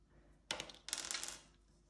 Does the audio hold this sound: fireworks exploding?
no